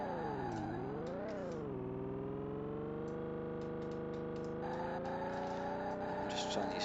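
Racing cars in the Amiga video game Lotus Turbo Challenge, with a synthesized engine tone rising and falling in pitch as gears change, plus faint tire squeals and other cars passing, steady and loud throughout.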